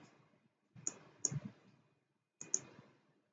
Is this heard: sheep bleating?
no